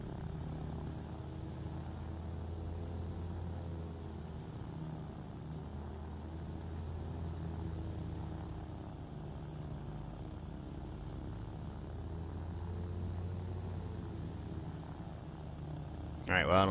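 Engine drone of an aircraft taxiing slowly on the ground in a flight simulator set at Aspen, a steady low hum running throughout under talk, with a brief louder burst at the very end.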